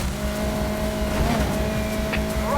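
Car engine droning steadily while driving in Need for Speed Heat, set in an open-world Miami, a continuous hum with a faint tire squeal near the end.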